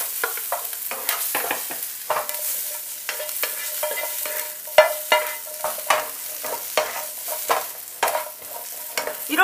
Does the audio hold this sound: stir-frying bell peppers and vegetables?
yes